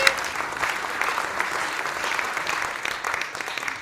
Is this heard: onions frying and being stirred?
no